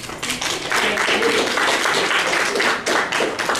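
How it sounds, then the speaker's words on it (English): Audience applause after a closing thank-you at a gathering, a steady wash of many hands clapping for a few seconds with brief dips, fairly close and loud. "Give yourselves a round of applause"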